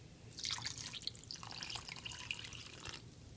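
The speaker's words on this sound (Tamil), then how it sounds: "2 கப் தண்ணி ஊற்றிக்கலாம்." Two cups of water poured into a microwave-safe bowl holding corn flour and sugar for a halwa, a soft, fairly quiet trickling and splashing stream lasting a few seconds.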